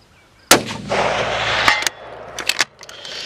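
A rifle shot from a Ruger Precision or XCR on a long-range outdoor course cracks sharply and sends a rolling boom echoing for over a second, followed by faint clatter and rustle.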